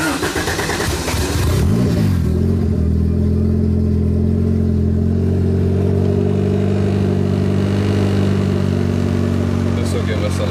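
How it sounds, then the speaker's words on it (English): After a crackle-and-pop ECU tune and recalibration of the MAP sensor, a hatchback's engine settles into a steady, loud, low idle after a brief rev as it starts, humming evenly and close up. "Just us recalibrating the map sensor had made the car's idle sound a lot better"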